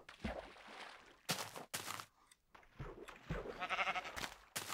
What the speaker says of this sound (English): Away with you, sheep. Get out of here.